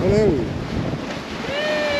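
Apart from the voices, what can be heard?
strong wind and waves pounding the coast during a storm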